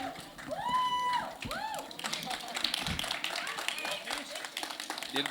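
A film audience applauds the director at a trailer launch. Sustained, dense clapping builds through the second half, with whistles and voices mixed in over the crowd.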